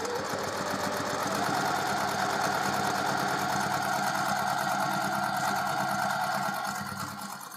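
Sewing machine stitching fabric for half square triangle quilt blocks, a loud, close, continuous motor hum with fast rhythmic needle chatter held for about seven seconds before easing off at the end.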